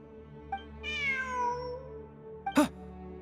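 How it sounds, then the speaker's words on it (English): A cat in the video game Genshin Impact meows once, clearly and with a rising and falling tone, set against a soft sustained game music backdrop, followed by a brief sharp effect. "Look! A cat!"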